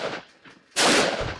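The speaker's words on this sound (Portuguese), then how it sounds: "eu vou atirar no meu próprio carro" A single loud gunshot in the My Summer Car video game, fired at the player's own car, bursts out sharply after a quieter stretch and rings on briefly.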